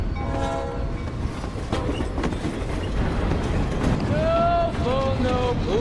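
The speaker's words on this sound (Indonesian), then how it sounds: "naik kereta barang secara ilegal" A freight train rolls past with a steady rumble and rattling wagons, its horn sounding in drawn-out tones near the end, heard as a film scene.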